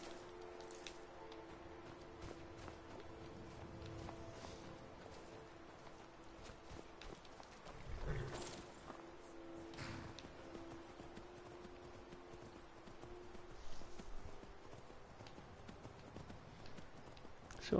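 Faint hooves of a horse in the video game Skyrim, a quiet run of steady clip-clop steps under game ambience, with a slightly louder thump partway through.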